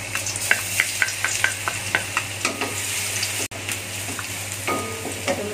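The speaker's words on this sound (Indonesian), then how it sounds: "Kemudian kita tumis bawang putih dulu." Garlic stir-frying in hot oil in a wok, a steady sizzle punctuated by repeated scraping stirs of a spatula in a loose rhythm, close and clear, with a brief break midway.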